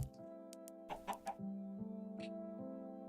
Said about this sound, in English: there is one of your traditional chickens, but with fresh animations applied to it